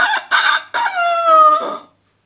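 A person imitates a rooster crowing in the morning: one close, loud cock-a-doodle-doo of a few choppy opening bursts and a long falling tone, heard alone.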